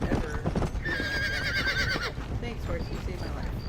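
Horse galloping and neighing in Red Dead Redemption: Undead Nightmare, steady hoofbeats with a clear whinny near the middle, loud and close, with game sounds around it.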